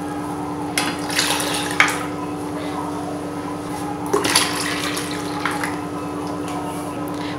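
Water splashes and pours into a pan of ground paste for lemon rasam in two short bursts, with quieter trickling in between.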